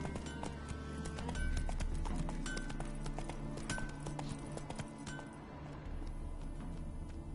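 Roach, the horse in The Witcher 3 video game, gallops with steady clip-clop hoofbeats under a continuous bed of music and ambience, the rhythm holding throughout at moderate loudness.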